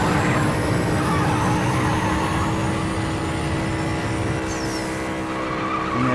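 Jaguar F-Type racing in Need For Speed No Limits, a loud, steady engine roar with a turbo boost and a brief tire skid squeal near the end, dense and continuous throughout.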